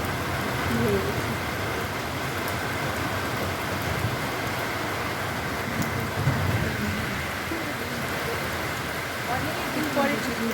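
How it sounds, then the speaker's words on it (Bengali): Heavy rain pours down steadily in a constant, close hiss that fills the whole stretch, with a low rumble underneath that could be distant thunder. "একটু দেখে দিলাম বৃষ্টি পড়ছে, প্রচুর বৃষ্টি হয়ে গেছে"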